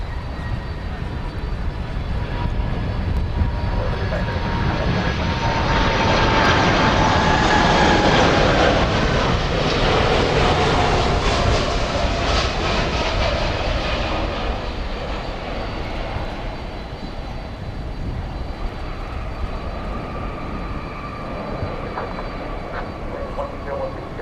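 A Boeing 747-400 roars past at DFW Airport at night, its jet engine noise swelling to a loud peak midway and then easing off into a sustained rumble with a whining tone, while someone talks over it.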